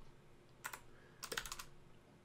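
Typing on a computer keyboard while entering a search in Windows 11, with two short bursts of quick, close, quiet key clicks separated by a brief pause.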